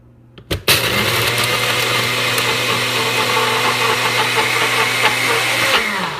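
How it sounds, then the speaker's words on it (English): A blender grinding crumbs for a cheesecake crust whirs to life after a brief click and runs steadily at high speed, loud and continuous, with a low motor hum throughout. "let it start melting while I start blending these"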